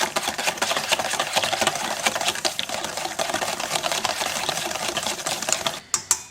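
Carbonara egg mixture whisked briskly in a bowl, a dense rapid clicking and scraping that runs continuously, then breaks into a few separate taps at the end, close with no talk.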